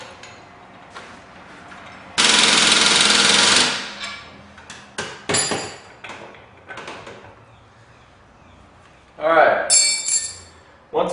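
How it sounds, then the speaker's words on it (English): A wrench tightens the bolts of a spindle lift kit on an EZGO TXT golf cart, with a burst of rapid mechanical rattling followed by scattered clanks and clicks of metal on metal, while a person talks. "tighten this bolt, then tighten the other one that's across from it"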